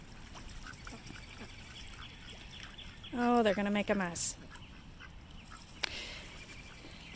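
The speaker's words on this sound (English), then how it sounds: "he's going to stay a pet duck" Pet ducks let out a burst of several loud, close quacks in quick succession after a spoken remark, followed by a faint background with a single click near the end.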